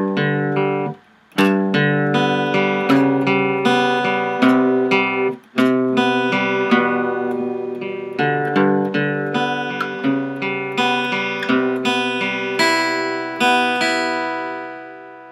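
A guitar plays a section of a song: a steady run of strummed and picked chords, close and clear, with two brief pauses and no voices.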